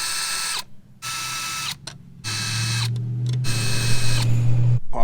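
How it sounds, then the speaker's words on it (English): A powered screwdriver backing screws out of a Jeep TJ tail light lens cover, several whirring bursts of motor drive separated by short gaps, close and fairly loud. "the first thing you're going to want to do is remove these 4 screws on your lens cover"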